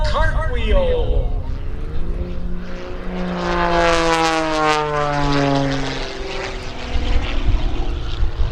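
A Wolf Pitts aerobatic biplane engine roars during a double hammerhead at an airshow, its loud propeller drone sweeping in pitch as the plane climbs, pivots and dives, with people talking over it.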